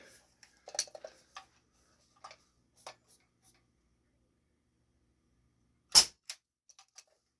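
A Big Bang AK-74 CO2 airsoft rifle converted to 4.5mm fires light BBs through a chronograph, giving a sharp, loud crack near the end, with scattered faint clicks and small metallic handling noises before it.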